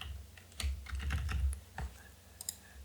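Keystrokes on a computer keyboard tap out in quick irregular bursts and short runs, close and fairly quiet, with brief pauses between clusters and no voice.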